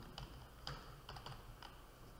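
Code being typed on a computer keyboard, a handful of quiet, separate key clicks in an irregular rhythm, close and faint in a silent room.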